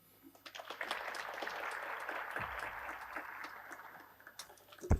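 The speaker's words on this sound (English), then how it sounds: "let's give our director another round of applause" An audience at a 2024 medical school final event breaks into moderate, fairly distant applause that swells and lasts about four seconds before tapering off.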